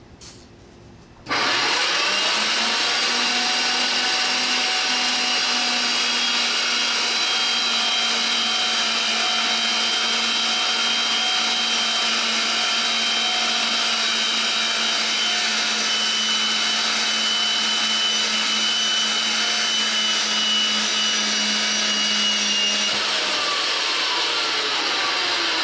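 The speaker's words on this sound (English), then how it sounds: "a piece of standard black pipe is threaded to make sure each machine threads properly before leaving the warehouse" A reconditioned RIDGID 300 pipe threading machine threads standard black pipe, starting with a clunk and then running as a loud, steady motor drone with grinding, whining cutting noise for over twenty seconds before winding down.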